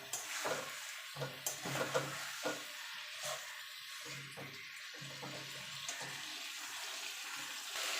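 Cauliflower and potato are stirred with spices in a pan, giving a steady sizzle with scraping and spoon strokes at irregular intervals, close and moderately quiet.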